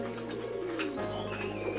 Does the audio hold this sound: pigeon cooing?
yes